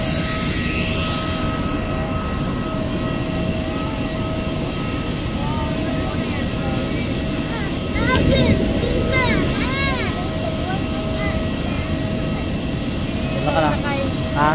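Airplane engine noise at an airport fills the background as a steady broad roar, with voices and chatter heard over it throughout.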